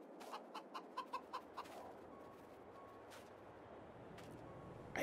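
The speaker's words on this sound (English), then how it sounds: "Oh my God, look at this chicken." Chicken clucking in the Farming Simulator 22 video game, a quick run of short repeated clucks at the start over a low steady ambient bed, faint and a little distant.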